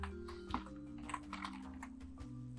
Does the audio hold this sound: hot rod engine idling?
no